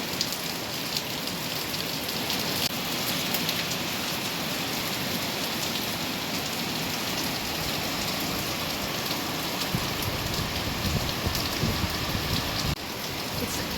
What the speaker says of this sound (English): It's actually raining. Pretty hard too.